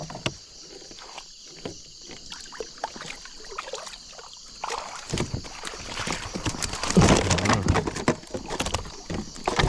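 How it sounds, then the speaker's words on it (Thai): A boat passes on a reservoir among flooded forest upstream of Thailand's Huai Samong dam. Its noise swells and grows louder over the second half, over a steady drone of insects. "นีมันเรืออีกแล้ว"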